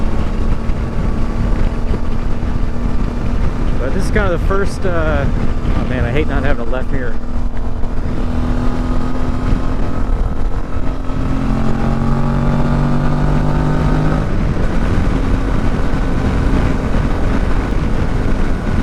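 A Suzuki V-Strom motorcycle with a swapped engine rumbles through its exhaust pipe while riding, a steady engine drone under heavy wind noise as the rider talks over it.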